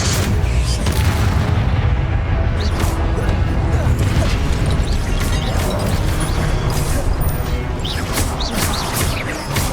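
Loud, sustained booming blasts from a Confringo fire spell in Hogwarts Legacy, with repeated crashing impacts and rumbling battle noise filling the whole stretch.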